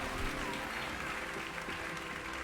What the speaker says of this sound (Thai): คนปรบมือให้เรา